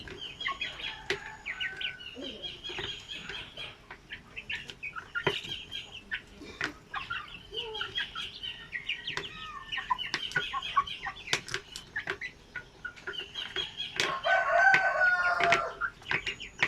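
Basilan native chickens cluck and crow steadily together, with overlapping calls and a louder crowing burst near the end.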